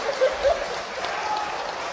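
Applause in the Czech parliament chamber, a thin, steady patter of clapping heard at a moderate distance, with a voice briefly audible over it.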